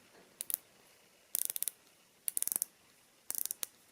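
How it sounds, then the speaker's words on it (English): Clusters of crisp, rapid ratchet clicks from the rotating bezel of an Eza 1972 automatic dive watch, four short bursts of several clicks each, close and clear against near silence. "this I think has better bezel action"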